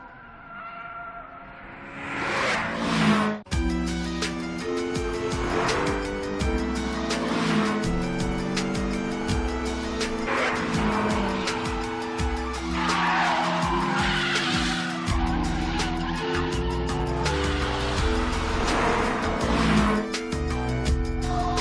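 A Mazda RX-7 FD and a Nissan S14 race downhill, their tires skidding and squealing under loud, steady music, with the engine roar continuing throughout.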